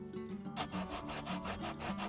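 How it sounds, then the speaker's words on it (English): Quiet, close rhythmic rasping of sandpaper worked back and forth along the front edge of a leather handbag, with steady short strokes. "After sanding down to even out any blemishes"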